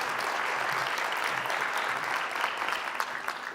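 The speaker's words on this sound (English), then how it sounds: "A round of applause for Kent." Audience applause at a STEM convention talk, a dense steady clapping from a crowd that fills the whole stretch at even loudness with no voices over it.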